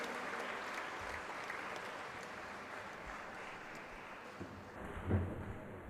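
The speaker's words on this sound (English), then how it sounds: "Please give a huge round of applause for consecutive 27th edition." Steady, distant audience applause at a formal endowment lecture ceremony, a soft continuous wash of clapping with a faint thump near the end.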